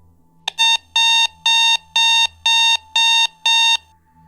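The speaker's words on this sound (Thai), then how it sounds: "เสียงนาฬิกาที่โต๊ะของรปภ." Alarm clock ringing at a security guard's desk, a loud electronic beeping in seven even, repeated bursts after a brief click, steady and close with no one speaking.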